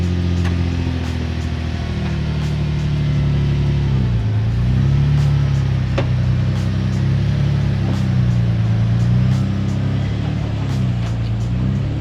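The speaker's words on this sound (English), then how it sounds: "I'm gonna pull the car down to the other street" A car pulls slowly down a driveway to the street after a foam-cannon wash, its engine a steady low idle hum with gentle swells in revs, close and continuous with no talk.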